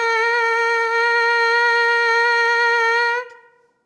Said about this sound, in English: more of a buzzing sound that sounds a little bit more like a note